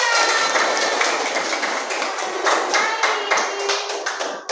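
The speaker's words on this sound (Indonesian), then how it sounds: "kita kasih tepuk tangan" Students and audience in a classroom applauding a student group, a dense, continuous wash of clapping with some sharper individual claps standing out, close and steady throughout.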